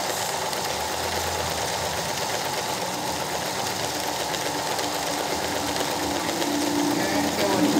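Steady, loud whir of a home sewing machine running a straight stitch to embroider a leaf, a continuous close mechanical drone with a voice speaking over it the whole time.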